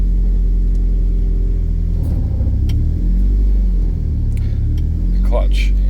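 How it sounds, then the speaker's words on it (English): A car engine idles and runs loud and steady right after start-up, a deep continuous rumble throughout with brief rises in revs, checked for exhaust leaks on a car with a fresh gearbox. "let's start the car up, see if there's no exhaust leaks"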